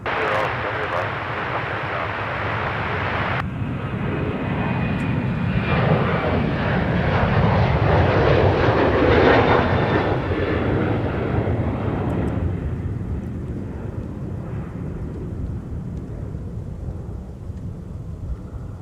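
A Delta heavy airliner taking off from runway 30 left at Minneapolis–Saint Paul airport, a loud, sustained jet roar that builds and peaks mid-clip then slowly fades as it climbs away.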